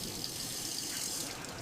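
Water gushes steadily from a tap in a continuous close rushing stream, with no pauses across the brief moment.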